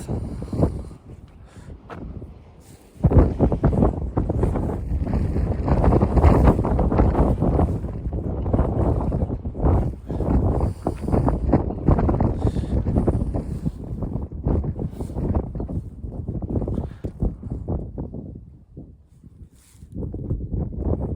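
Gusty wind blowing outdoors, roaring and buffeting close against the microphone in uneven surges with no talk, dropping off briefly near the end.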